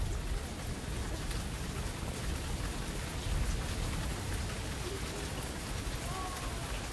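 Steady rain hisses continuously, a dense wash of falling drops on surfaces with no pauses, moderately loud and even throughout.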